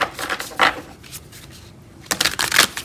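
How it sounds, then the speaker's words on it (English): A fresh deck of playing cards is shuffled close up in crisp, papery riffle bursts, with a quiet pause between the first shuffles and a louder final run. "this is a fresh deck, so it's a little bit loud when I shuffle it"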